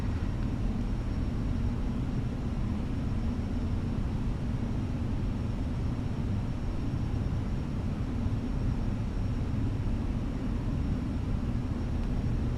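An Air Malta A320 airliner lands in a flight simulator, flying from Malta to Rome, with a steady broad engine and wind roar holding constant and unbroken throughout, no talk over it.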